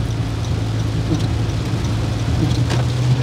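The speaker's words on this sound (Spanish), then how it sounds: "está lloviendo" Rain falls at night around 4 a.m., a steady dense hiss with a low hum beneath it, continuous and fairly faint throughout.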